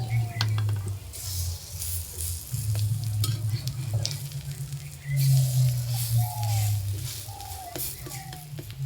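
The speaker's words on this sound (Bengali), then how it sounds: "এক পিঠ ভাজা হয়ে গেছে, উল্টে দেবো" Bathua leaf fritters sizzle loudly in hot oil after being flipped, a close, bubbling crackle that surges and eases as they are moved, with a few utensil scrapes and clinks.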